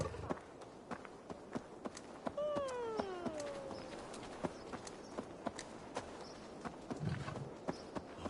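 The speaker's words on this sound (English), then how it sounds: "What a handsome cat." In the video game Assassin's Creed Valhalla, a cat gives one drawn-out meow, over steady horse hoofbeats clip-clopping throughout.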